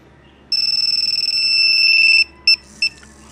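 A small remote for a two-way motorcycle alarm on a Yamaha Sight beeps rapidly in a high-pitched pulsing tone for a couple of seconds, then gives two short separate beeps.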